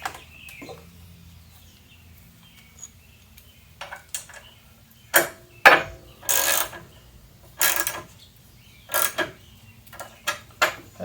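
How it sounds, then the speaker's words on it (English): A bolt on a 2016 Harley Sportster saddlebag support is tightened with a hand tool, heard as sparse clicks then a series of sharp ratcheting bursts and metallic taps, close and otherwise quiet, without talking. "put the bolt on the other side and you should be able to tighten that"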